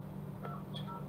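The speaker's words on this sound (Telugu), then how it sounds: "ఇప్పుడు నేను ఒక మిస్ కాల్ ఇస్తున్నానమ్మా నీకు." Dialing tones from a telephone placing a missed call, two short soft beeps in quick succession over a low steady hum.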